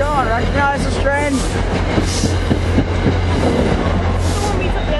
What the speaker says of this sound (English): Sean, recognize this train?